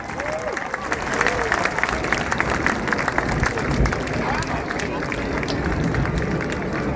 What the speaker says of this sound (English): Give Hannah formation a massive round of applause for a wonderful heart over the skies of air